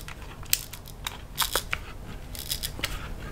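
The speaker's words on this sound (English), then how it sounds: "when I wind on the film" Clicks and ratcheting rasps from winding the film advance on a leaf shutter film camera, a few sharp mechanical bursts close up with quiet gaps between them.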